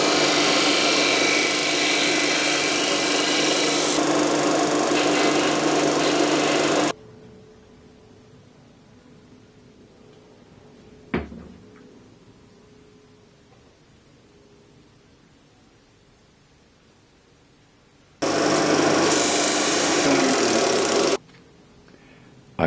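A workshop dust collection system roars with steady broadband noise for about seven seconds, stops, and later runs again for a few seconds. Between the runs the room is quiet except for one sharp knock.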